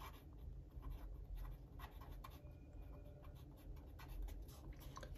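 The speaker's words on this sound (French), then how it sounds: "Je commence à écrire comme un médecin." Pen scratching across paper in steady handwriting strokes, with short repeated bursts of scribbling against a low room hum, close and fairly quiet.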